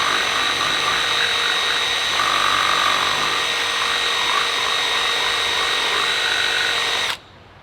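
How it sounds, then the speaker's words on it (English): A power drill whines steadily at high speed for about seven seconds, notching an accessory mount for a Toyota Tacoma, loud and close, then abruptly stops. "I'm just going to go ahead and use the drill bit."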